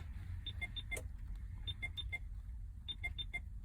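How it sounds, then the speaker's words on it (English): Clusters of high, thin electronic beeps from a Sony radio in a Mercedes Sprinter repeat in quick groups of four, separated by short pauses, over a low idling rumble. "That's my Sony radio making that beep."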